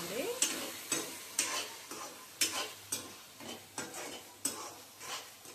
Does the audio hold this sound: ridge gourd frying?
yes